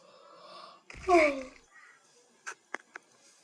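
A child yawns aloud during a gaming session, one swelling, voiced yawn in the middle, followed by a few faint clicks and small noises in an otherwise quiet room.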